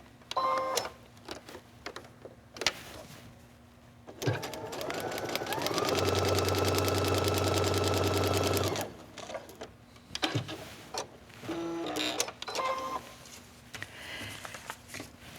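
A sewing machine stitches fabric onto a paper foundation for paper piecing, running in one steady loud burst of about three seconds between quieter handling clicks and rustles of fabric and paper.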